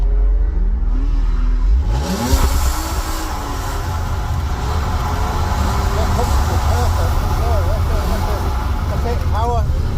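BMW E46 revving hard while drifting, the engine note rising and falling continuously with tyre noise, loud and close, with people talking over it.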